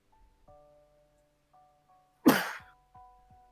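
A single sharp, loud sneeze bursting out mid-clip against a quiet background of soft tones and faint taps.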